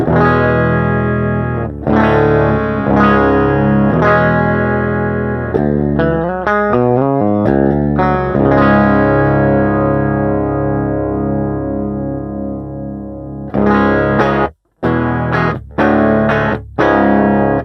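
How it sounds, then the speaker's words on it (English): A clean electric guitar played direct into a Neve preamp plays ringing chords and a quick run of single notes, bright and dry, with short pauses and a few sharp muted strums near the end. "this is just my clean sound. It's my guitar direct to the NEVE"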